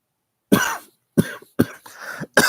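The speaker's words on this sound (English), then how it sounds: "It's probably going to make me cough" Several harsh coughs in quick succession, close up and loud, separated by short silent gaps.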